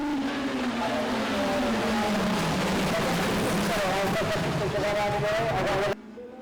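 Rallycross race cars launch off the start line in a D3/D4 or Twingo Cup final at Kerlabo, engines roaring and rising in pitch together, loud and continuous, with a commentator talking over them.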